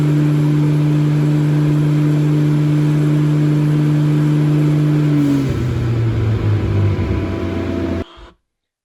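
A turbocharged Mercedes 3.2L M104 engine runs on a dyno with a steady droning hum, then its note shifts into a rougher, louder, grittier growl as revs climb, before cutting off abruptly.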